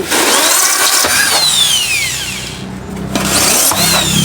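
A power drill bores six evenly spaced holes into a foam box used for growing salad greens, whining loudly and steadily with pitch sweeps as the bit speeds up and slows, no speech.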